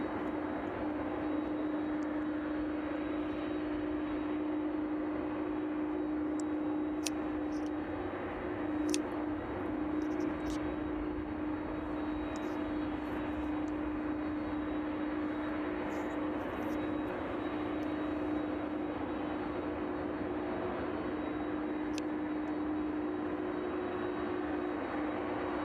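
Cargo aircraft engines droning at East Midlands Airport on a chilly evening, a steady distant roar with a sustained tonal hum and faint intermittent clicks, no speech.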